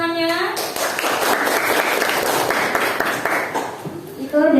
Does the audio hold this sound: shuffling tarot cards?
no